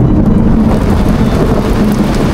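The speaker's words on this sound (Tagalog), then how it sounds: "uy, lakas ng kidlat" Heavy rain pours loudly and steadily near a van, with a deep low rumble of thunder rolling beneath the downpour throughout.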